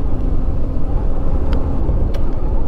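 A motorbike engine roars close and loud as a steady, dense rumble that holds for the whole moment, with no talking over it.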